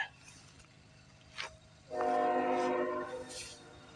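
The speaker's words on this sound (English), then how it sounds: "Listen to that horn." A CN freight train sounds its horn in snowy early-morning trackside air, a short faint toot first and then a longer, loud chorded blast lasting about a second, fairly close by.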